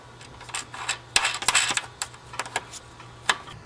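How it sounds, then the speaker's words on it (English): A washer, lock washer and nut fitted back onto the negative terminal of an inverter cable in a solar setup, heard as a series of small, close metallic clinks and taps over a faint steady hum. "Replace the washer, the lock washer, and the nut."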